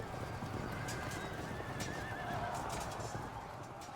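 In the video game Field of Glory II: Medieval, a horse whinnies loudly over the steady thud of galloping hooves during a cavalry charge, with a faint clatter of battle noise in the background.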